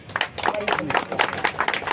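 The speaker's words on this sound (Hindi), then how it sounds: "जोरदार तालियां।" An audience at an award ceremony gives a round of applause honouring a young woman, with dense clapping alongside a voice speaking throughout.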